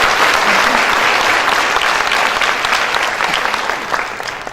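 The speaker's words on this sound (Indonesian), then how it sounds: "Boleh kita berikan satu kali aplaus untuk beliau." An audience at a university economic outlook event in Surabaya applauds a speaker, with loud, dense clapping from a crowd that fades slightly toward the end.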